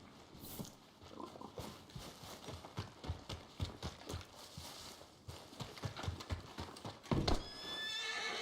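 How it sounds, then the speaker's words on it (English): Horses in the Red Dead Redemption 2 video game whinny and clop their hooves in an uneven, steady rhythm for several seconds, close and fairly clear, with a brief louder burst near the end and almost no talk. "That horse don't listen."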